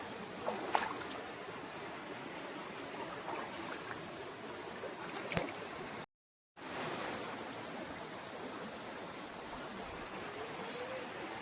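Water rushes steadily at Penchalakona waterfall, a broad, even roar with brief clicks, cut by a moment of silence partway through before the flow resumes.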